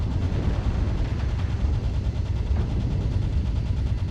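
Machine gun fire in the mech combat game MechWarrior Online: a dense, continuous, rapid rattle of shots that stays loud and steady throughout, with no voices over it.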